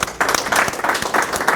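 Brief burst of audience applause at a talk or seminar, many hands clapping together in a dense, fairly loud wash with a few stronger individual claps standing out.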